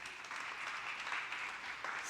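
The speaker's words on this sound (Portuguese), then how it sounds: "Dá um aplauso a Jesus aí." A church congregation applauds during a sermon, a steady, fairly dense wash of clapping filling the whole stretch at moderate level without a break.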